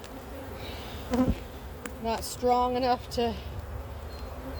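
Honeybees buzzing around an open hive during a beekeeping inspection, a steady close drone with louder passing buzzes of individual bees, someone speaking briefly over it.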